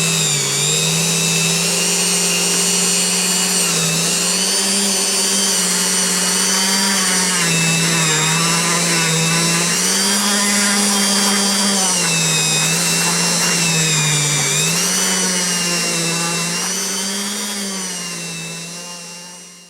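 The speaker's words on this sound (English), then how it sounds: "that and the drill, and drill a hole into the head" A power drill runs steadily, boring a hole into the head of a vintage Star Wars Biker Scout toy, its motor whine holding close and loud for nearly twenty seconds with slight pitch wobbles before easing off at the end.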